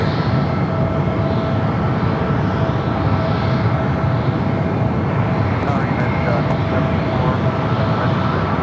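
Air India airliner near the runway at San Francisco airport, a steady loud engine roar with a constant hum, distant and unbroken.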